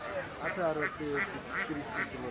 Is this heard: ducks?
yes